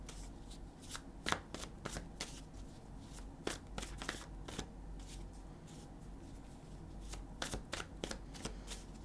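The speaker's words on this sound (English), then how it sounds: "I think I'm going to shuffle a little bit." Tarot cards are shuffled by hand in a quiet room, a run of crisp riffling bursts and soft slaps at irregular intervals, close and faint.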